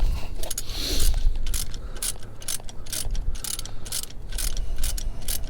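A ratchet clicks in quick, repeated bursts while tightening a nut under the clutch cylinder of a Fiat 500, close and fairly loud with no talk.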